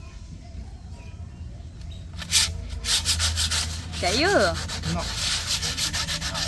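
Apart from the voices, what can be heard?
sanding a spray-painted cap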